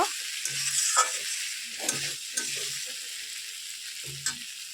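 Potatoes, bean seeds and tomato frying with spices in a pan, giving a soft continuous sizzle broken by several scraping stirs of a spatula. No one speaks.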